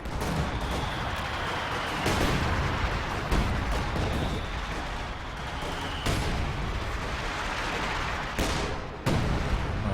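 ML-20 howitzer artillery in Company of Heroes 2 booms repeatedly over ten seconds, sharp blasts with rolling low rumble between them, battlefield gunfire mixed in, no talk.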